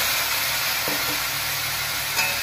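A paste of ginger, chilli, cumin, coriander and yogurt hits a hot pan and sizzles loudly and steadily up close, with a couple of brief stirring knocks; no talk.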